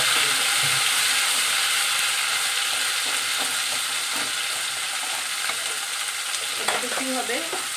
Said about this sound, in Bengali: তারপর দিলাম লঙ্কা, দিয়ে ভালো করে নাড়াচাড়া করে দেবো।